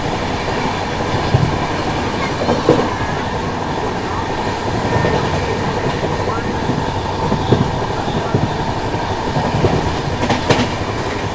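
The Mahakoshal Express runs at speed, a loud, steady rumble of rail cars with rhythmic wheel clatter over joints and occasional squeals, continuous throughout.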